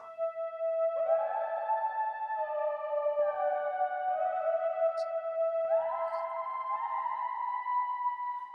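Sustained electronic synth lead notes from the Logic ES2 synthesizer glide between pitches, a slightly hollow tone with strong overtones, each washed in long, spacious reverb, with no voices.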